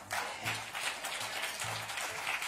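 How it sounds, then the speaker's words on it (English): A church congregation applauds during a Sunday morning service, a dense burst of clapping heard up close that fills the whole moment with a few faint voices underneath. "Oh, y'all better clap."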